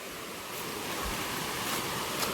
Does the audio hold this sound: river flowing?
yes